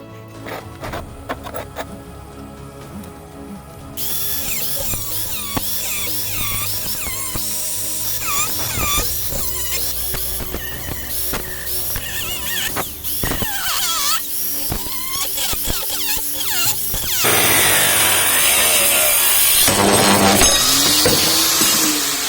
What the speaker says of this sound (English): I will use a cutting wheel to cut out the shape and a grinding wheel to grind out the shape and the bevel of the knife.